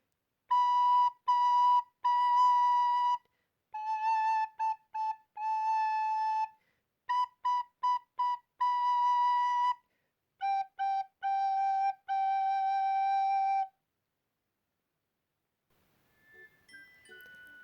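A recorder plays a simple tune in clear, separate notes with brief pauses between phrases, fairly loud and alone, ending with a faint trailing tone.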